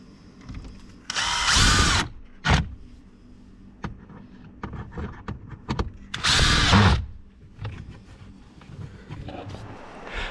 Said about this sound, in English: We'll go ahead and screw the other 2 screws in.